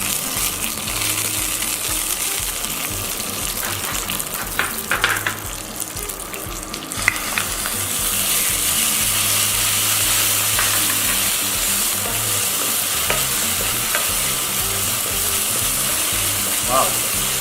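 Ginger garlic paste frying with curry leaves in hot oil, a steady broadband sizzle running throughout, with occasional clinks and stirring scrapes, close and fairly loud.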